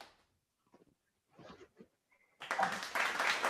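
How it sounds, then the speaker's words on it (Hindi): Scattered quiet sounds give way to a burst of applause from a meeting audience welcoming a guest, clapping rising suddenly and continuing steadily at moderate distance. "तालियां से आप सभी स्वागत करिए"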